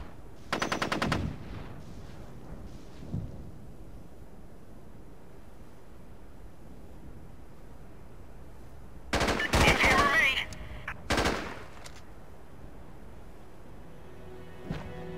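Automatic gunfire in the video game Socom 3 U.S. Navy Seals: a sharp burst at the start, then louder, denser bursts about nine and eleven seconds in, separated by quiet stretches.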